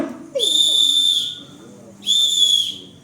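Two long, loud traffic police whistle blasts, each held about a second, separated by a short pause with faint background noise.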